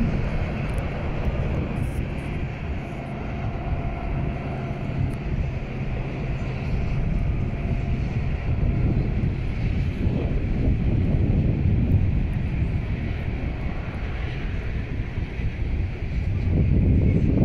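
Diesel freight locomotives, General Electric ES44AC and EMD SD70ACE units, roll past a hillside vantage with a deep sustained engine rumble and drone, buffeted by wind noise, swelling louder near the end.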